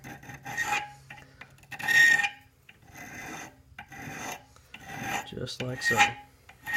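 A file rasps a burr off a metal gun trigger in short, harsh strokes, close and intermittent, with a brief spoken remark in between.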